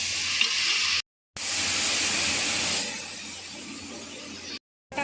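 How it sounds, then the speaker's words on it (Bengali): Spices with turmeric and chili paste frying in a pan after a splash of water is added, a loud close sizzle and hiss that cuts off briefly twice, easing slightly toward the end. "কষার জন্য হালকা একটু জল দিয়ে দেবো"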